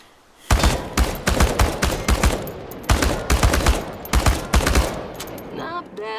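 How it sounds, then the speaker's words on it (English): Automatic weapon firing at cans on a shooting range in the video game Chernobylite, loud close bursts of rapid shots in several strings with short pauses between them, ending with a brief quiet tail. "The biggest challenge is compensating for recoil in automatic firing mode."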